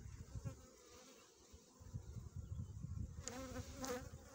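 Honey bees buzz around a hive on a sunny February day, a faint, continuous droning hum with a few closer bees passing near the end.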